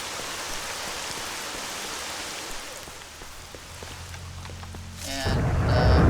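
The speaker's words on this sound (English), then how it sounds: "So let's go out and brave the storm here." Steady rain hisses through a thunderstorm in the video game Stalker, with low rumbling beneath. Near the end a louder, tonal sound rises over the rain.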